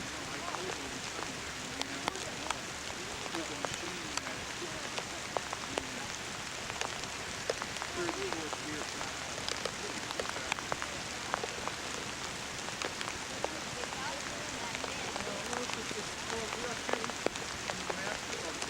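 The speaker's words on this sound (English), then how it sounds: "It's raining." Steady rain patters on a surface, with scattered sharper drops ticking over a constant hiss, while a voice speaks faintly underneath.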